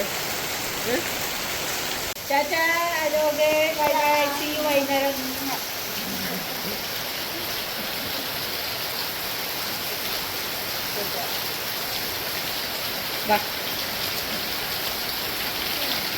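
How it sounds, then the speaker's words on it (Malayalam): Heavy morning rain in Kerala falls as a steady, dense hiss throughout, with a voice speaking briefly early on over the downpour. "രാവിലെ തന്നെ ഭയങ്കര മഴ"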